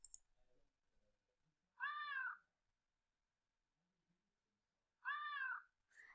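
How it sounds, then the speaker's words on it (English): A sad cat meow sound effect played back twice, two short plaintive meows separated by a few seconds of near silence. "we want to play this sound. This is the sad meow"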